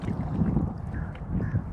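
Wind buffets the microphone outdoors during a fishing trip, a continuous low rumbling gust noise, loud and close, with no talking.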